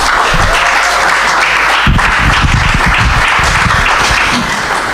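An audience applauds after a live poetry performance at a festival in Africa, with loud, dense, sustained clapping close by throughout.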